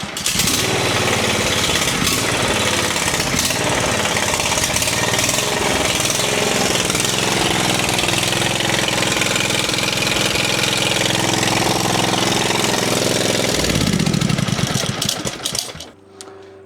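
A Toro Z Master zero-turn mower engine, freshly repaired fuel system, runs loud and steady at idle for most of the stretch with a rough knocking edge, then cuts out abruptly near the end.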